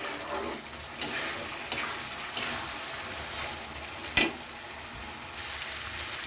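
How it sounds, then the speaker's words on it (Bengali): Lentils (dal) are sautéed in a pan, producing a soft, quiet frying sizzle broken by a few light stirring clicks and one sharper knock against the pan. "দিয়ে কিন্তু এটা খুব ভালো করে কষতে হবে ডালটা"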